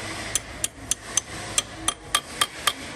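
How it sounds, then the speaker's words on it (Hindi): A hammer taps a metal pin into a Range Rover 3.0 diesel engine during timing belt replacement, giving about ten sharp, evenly spaced metallic clinks close by, with no talking. "ये पिन हमने अंदर डाली है इसके, और इसको हम पिन को टैप करेंगे"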